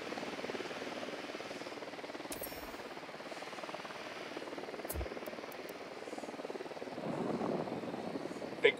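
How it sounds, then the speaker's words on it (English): A drone in the video game Tom Clancy's Ghost Recon Wildlands hums and whirs continuously at moderate loudness, a steady buzzing rotor drone with a few brief clicks and a swell near the end. "Drone."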